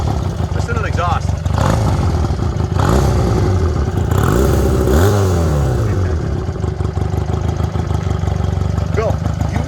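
A 1965 Honda Dream Benly 150 motorcycle revs nearby, its exhaust rising and falling in a couple of throttle blips over a steady idle, with people talking over it.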